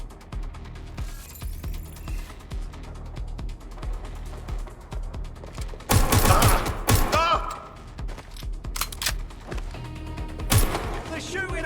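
Gunfire bursts in Watch Dogs Legion, with several loud rattling volleys and sharp cracks over steady game background noise and occasional voices.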